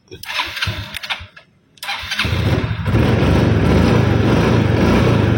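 A motorcycle is started with its electric starter after an electrical repair: a whirring crank, a pause, another crank that catches, then a steady loud idle, with talk early on.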